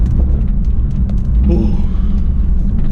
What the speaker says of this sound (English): Hear the car sucking air